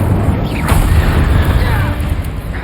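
In the Hogwarts Legacy video game, an Incendio fire spell goes off as a loud, whooshing, booming burst of flame that rolls on continuously, with a voice speaking over it.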